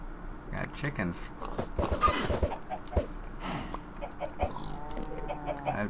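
Minecraft chickens clucking in a farm pen amid other game sounds, with a person talking over much of it; the bird calls come in short scattered bursts.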